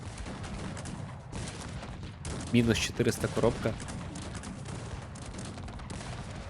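Cannons in the real-time strategy game Cossacks 3 fire a cluster of booming, rapid volleys in the middle, over a steady battlefield hum, with someone talking briefly.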